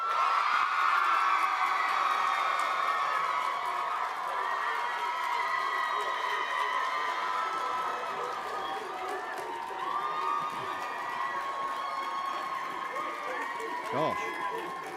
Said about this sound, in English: On the count of 3, the biggest and loudest cheer you actually can